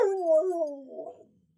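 A dog howls on command indoors. One drawn-out howl slides downward in pitch and fades into a brief whimper at the end, fairly close and alone with no talk over it.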